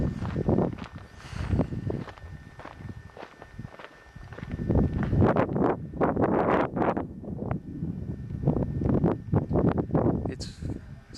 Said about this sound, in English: there's a bit of wind blowing, as you can see from the mist.